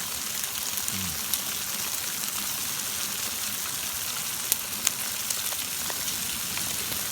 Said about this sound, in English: Everybody loves the sizzling bacon shot,